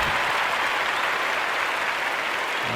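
French fans at a Crash Carnival wrestling show clap steadily, a broad, even wash of crowd applause with no voices standing out.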